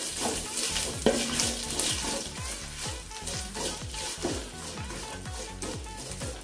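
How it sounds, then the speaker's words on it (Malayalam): Chopped ginger sautéed in a pan gives a constant sizzle under repeated scraping strokes of a spoon against the pan, close and fairly loud, with musical tones running underneath. "ഇനി നമുക്കിതിലേക്ക് ഇഞ്ചി ചെറുതായി അരിഞ്ഞു വെച്ചത് ചേർത്ത് കൊടുക്കാം. എന്നിട്ട് വഴറ്റി കൊടുക്കാം."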